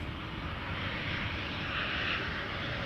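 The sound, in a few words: Embraer 190 jet airliner arriving at Amsterdam Schiphol Airport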